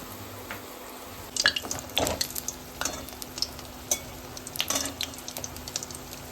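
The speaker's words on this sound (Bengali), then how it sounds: "নিচে এসে দেখি মা অলরেডি বেগুনি ভাজতে আরম্ভ করেছে দুপুরের ভোগের প্রিপারেশনের জন্য" Eggplant fritters (beguni) frying in hot oil for a midday festival offering, a steady close crackle broken by irregular sharp clinks and scrapes of stirring, with a low hum underneath.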